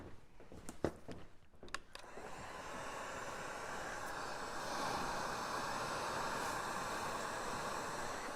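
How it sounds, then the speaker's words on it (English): A few clicks and handling noises, then a hair dryer switches on and blows with a steady, loud whooshing hum that continues to the end. "we gotta use the dryer again so that we can move on"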